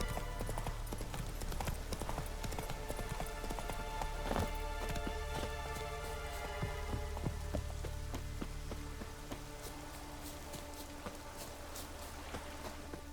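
Steady rain in The Witcher 3 patters over dense, crackling background noise while hooves clop along at an even pace, continuous and fairly loud with no talking.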